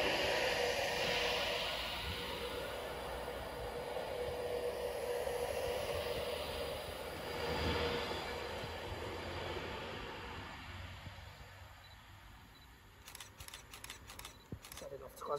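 A Class 390 electric train, unit 390107, pulls out of Wigan North Western on the 14:25 service to Glasgow Central, a broad steady rumble and whine that gradually fades, with clicks near the end and a voice talking over it.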